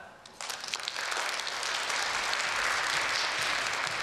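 A concert audience breaks into applause as a quartet is welcomed onto the stage, starting with a few claps and quickly swelling to full, sustained clapping.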